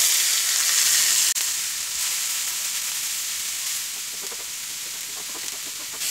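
Cabbage thoran mixture with turmeric powder hitting a hot pan, a sharp clack followed by a loud, continuous close sizzle that slowly settles and softens.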